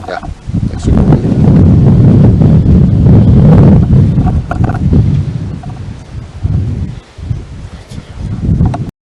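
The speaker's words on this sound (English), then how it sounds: "that's super windy" Strong, steady wind roars and buffets against the microphone at an outdoor cattle-panel greenhouse build site, loud and continuous with gusty rumbling throughout.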